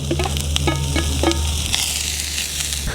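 Food sizzles steadily in a hot pan with olive oil and bacon fat, with a few clinks and scrapes early on over the continuous frying hiss, close and loud.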